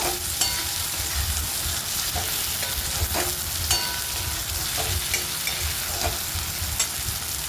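Pre-fried shrimp tossed with onions in a hot pan give a steady loud sizzle, broken by repeated sharp scrapes and taps of the stirring utensil against the pan, close by with no talking.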